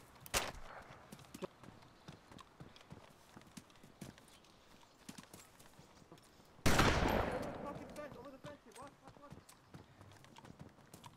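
Sparse gunshots from the survival game DayZ Standalone, scattered single cracks and one loud close shot with a long decaying tail, under excited voices talking over the action.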